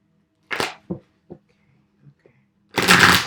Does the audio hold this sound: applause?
no